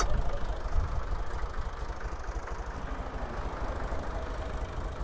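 A small Kadıoğlu EKO garden tiller with a blade attachment idles steadily, a low, continuous mid-pitched engine drone at moderate distance with no talk over it.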